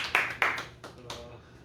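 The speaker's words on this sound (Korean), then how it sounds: "같이 한번 박수로 하겠습니다." A church congregation clapping hands, a few distinct claps ringing out, sparse and moderately loud in a reverberant room, fading to quiet afterward.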